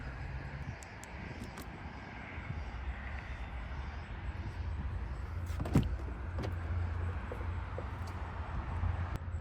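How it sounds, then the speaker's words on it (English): Steady low rumble of tire and road noise inside a 2025 Porsche Taycan while driving, a broad continuous hum with faint cabin creaks and one brief thump partway through, no talking. "Right now you can hear the road"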